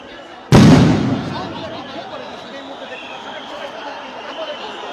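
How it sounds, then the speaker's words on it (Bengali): A single loud blast from a sound grenade thrown at a street protest in Dhaka, a sharp nearby burst that decays into lingering crowd noise and murmuring voices. "কয়েক দফা এখানে সাউন্ড গ্রেনেড নিক্ষেপ করা হয়েছে"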